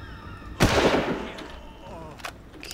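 Gunfire in Far Cry erupts suddenly as a loud burst, with a second, fainter shot rattling near the end amid quiet background ambience.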